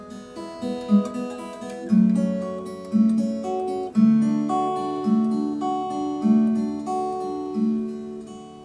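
Fingerpicked acoustic guitar plays the closing coda of a song, with arpeggiated chords rising and resolving in a steady, unhurried rhythm, each new chord struck clearly every second or so, close and alone.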